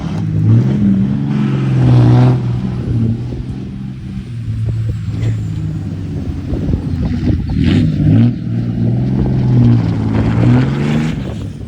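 A Cummins mega cab truck with a G56 6-speed revs hard and loud while doing donuts, its deep engine roar rising and falling in repeated surges up close for the whole stretch.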